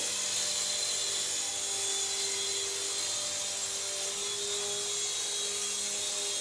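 A small Happy Cow Eidolon two-channel infrared toy RC helicopter flying nearby, giving a steady, faint high-pitched motor whine with a thin rotor buzz that holds throughout.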